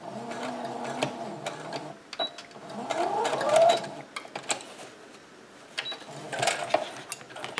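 Sewing machine stitching a T-shirt seam, running in short bursts with pauses between runs, close and moderately loud, with faint background sounds.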